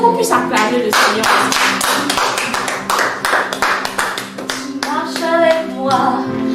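Congregation at a children's Sunday church service clapping steadily in rhythm to praise, loud and close, with singing voices and musical accompaniment running through the claps.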